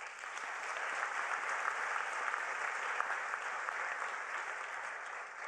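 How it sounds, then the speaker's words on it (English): Steady applause from a large audience at a United Nations Hult Prize event, a dense even wash of clapping for the judges that holds at a constant level throughout, heard from a distance. "let's give a big hand of applause to our judges"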